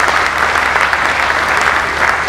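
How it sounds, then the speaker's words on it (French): Audience applause fills a multi-energy station inauguration ceremony in La Roche-sur-Yon, a dense, steady wash of clapping from a crowd, loud and sustained throughout. "je crois que vous pouvez les applaudir parce que c'est grâce à eux aussi que ça va fonctionner demain"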